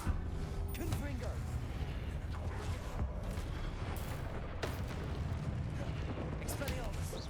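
In the Hogwarts Legacy video game, a Confringo blasting spell is cast amid dense combat, with booming, crackling blasts and rumbling impacts rolling continuously and voices mixed in.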